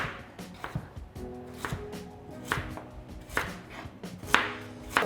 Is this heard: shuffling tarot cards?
no